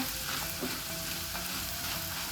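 Potato curry frying on a low flame in a pan, a dense, steady close-up sizzle that holds unbroken and fairly loud throughout, with no voices.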